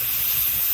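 Steam vents from a pressure canner in a steady, broadband hiss, close and continuous through a brief moment with no talk.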